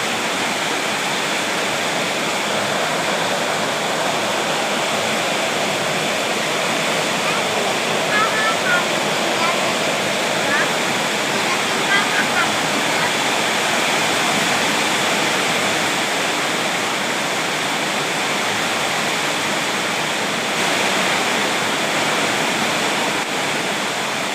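Heavy rainstorm pouring down outdoors during an evening meal, a loud, dense, unbroken roar of rain lasting throughout, with voices faintly audible beneath it.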